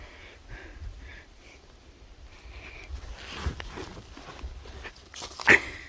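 Puppy on a construction site snorting, sniffing and scuffling nearby in short bursts, with footsteps and a sharp clatter near the end.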